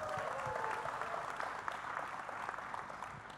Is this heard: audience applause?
yes